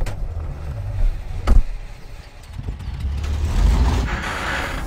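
A big truck in the SpinTires mud-driving game on a volcano map rumbles at low revs, its engine rising and falling in uneven surges with a brief louder burst midway, with no voices.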